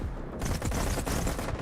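A rapid burst of gunfire in the first-person shooter S.T.A.L.K.E.R. 2, several sharp shots in quick succession, loud and close.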